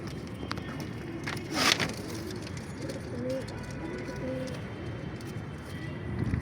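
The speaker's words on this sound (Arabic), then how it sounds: "بصوا في حمام تاني اتفتح له، وهنا حمام" Pigeons coo softly in repeated phrases at a rooftop loft, with a brief burst of wing flapping near the start, while someone talks over the birds.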